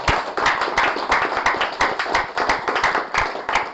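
A seminar crowd of insurance advisors gives a short burst of close, crisp clapping, falling into a brisk, roughly rhythmic beat of many hands striking together.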